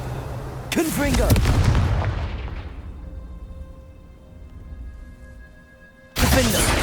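A Confringo blasting spell in Hogwarts Legacy bursts with a loud, booming explosion whose rumble slowly fades into a tonal hum. A second sharp blast cuts in at the end.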